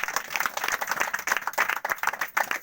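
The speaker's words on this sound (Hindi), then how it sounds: "सभी को जोरदार ताली से प्रभु को धन्यवाद" An audience at a Friday morning prayer service claps hard in thanks, a dense run of sharp individual claps that stays loud and steady throughout, with no voices over it.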